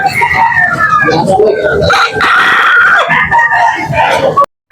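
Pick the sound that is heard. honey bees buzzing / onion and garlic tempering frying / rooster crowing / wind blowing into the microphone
rooster crowing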